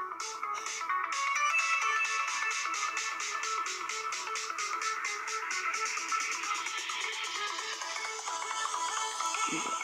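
A telephone rings in a Roblox pizza tycoon game with a rapid, steady electronic ringtone trill that repeats throughout, fairly loud and alone.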